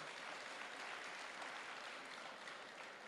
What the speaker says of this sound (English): If you want to clap, please, let's clap for